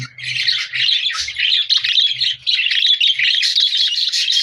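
Newly hatched budgerigar chicks chirp nonstop at close range, a dense, high-pitched stream of overlapping peeps and squeaky calls with no pauses.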